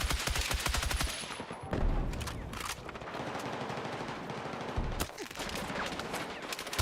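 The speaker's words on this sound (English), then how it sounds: "stop shooting at me from the hill, guys" Rapid bursts of gunfire from a hillside position in the shooter game Battlefield 6, dense automatic fire at the start, then heavy booming shots around the two- and five-second marks amid ongoing battle noise, loud and close.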